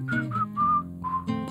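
Clear melodic whistling by a person, several sustained tonal notes in a short phrase, close and alone without talk.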